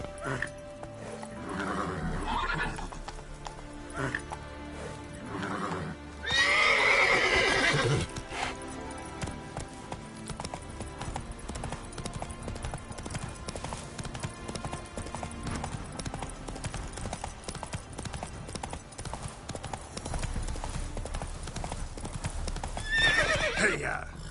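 In The Witcher 3: Wild Hunt, a horse gallops with rhythmic hoof clip-clops and lets out a loud whinny, then neighs again near the end over a continuous game soundscape.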